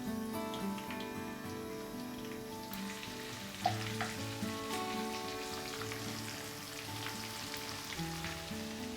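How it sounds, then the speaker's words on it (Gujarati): Mustard and cumin seeds sizzle in hot oil for tempering a brinjal and potato dish, a soft crackling fry with faint pops under steady tonal background music, quiet and continuous. "રાઈ નાખશું, લગભગ અડધી ટીસ્પૂન જેટલી. જીરું નાખશું અડધી ટીસ્પૂન જેટલું."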